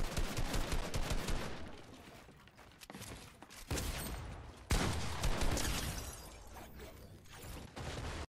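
Dense, continuous gunfire and explosions in the video game Fortnite, loud bursts layered over one another with little pause, rising and falling in intensity.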